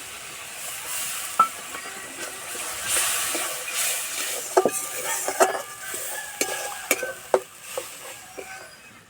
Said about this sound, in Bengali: এবার দেবো টক দই টক দইটা খুব ভালো করে ফেটে নিয়েছি